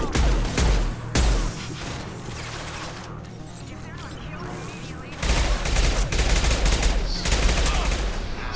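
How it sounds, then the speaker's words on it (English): Video game gunfire aimed at Blue Suns mercenaries, with bursts of rapid shots that come and go over the span, loud and close, mixed with clattering impacts and talking voices. "So, I guess we're just shooting Blue Sun guys, huh?"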